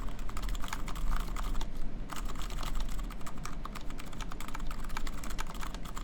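Steady, close typing on a Gok Type-K mechanical keyboard fitted with conical springs, a dense run of soft, quick keystrokes without sharp clicks, heard alone with no talking.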